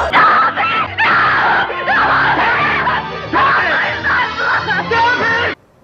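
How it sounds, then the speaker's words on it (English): Woman screaming in The War of the Worlds (1953) film, long loud sustained shrieks in several bursts over orchestral music, ending abruptly. "One of the things I most remember about this movie was that she screamed."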